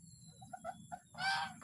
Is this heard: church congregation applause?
no